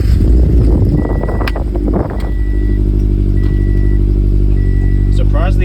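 A 2013 Subaru BRZ with a Tomei UEL header starts and settles into a loud, steady idle, with a deep exhaust drone throughout and a brief dip near the start.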